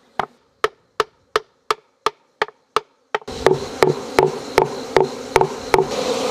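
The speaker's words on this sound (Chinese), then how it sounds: "然后我们要敲打它的蜂筒，让那个小蜜蜂进入到这上面去。" Someone taps a traditional log bee hive to drive the bees upward, sharp evenly spaced knocks on wood, about a dozen in quick succession, then more knocks over a louder buzzing of bees.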